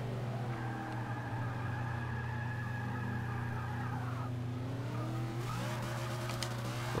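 An old Mercury with 900 horsepower races in Forza Motorsport 6, its engine droning loud and steady throughout, with a rising rev and a burst of squealing tires near the end.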